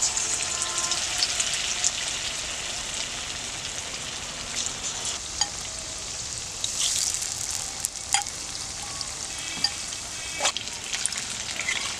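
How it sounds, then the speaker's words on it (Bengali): Batter-coated cauliflower pakoras fry in hot oil with a continuous bright bubbling sizzle, and occasional sharp pops and spatters break through. "তো আমার তেলটা গরম হয়ে গেছে, আমি ফুলকপিগুলো দিয়ে দিব।"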